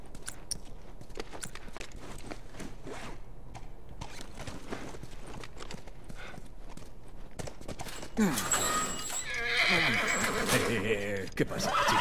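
Horse neighing with hoof sounds in The Last of Us video game, a steady busy game soundscape that swells into a loud, drawn-out whinny near the end, with speech present.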